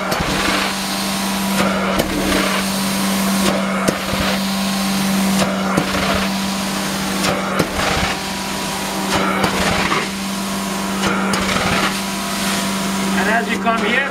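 A vacuum runs continuously during a Mobile Inferno 2545 LP heat treatment, its steady hum and airy rush sounding close and loud throughout, with occasional knocks and a voice talking over it.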